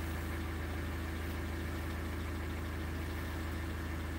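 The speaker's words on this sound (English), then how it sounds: "So that's the vehicle running." A car engine idles steadily with an even low rumble and faint mechanical ticking, continuous and close, alone without voices, on a vehicle with an EGR fault.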